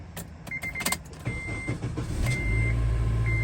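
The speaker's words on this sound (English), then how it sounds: "This one starts up no problem." A Honda Element engine cranks and fires up, settling into a steady low idle hum after a few brief chirps and clicks at the start.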